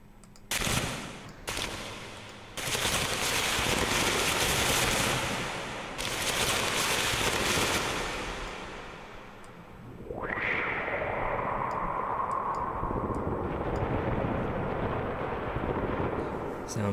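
A dense, noisy synthesizer patch imitating rustling paper, with crackly, rain-like hiss, swells in bursts, then a rising filtered sweep leads into a sustained bright wash.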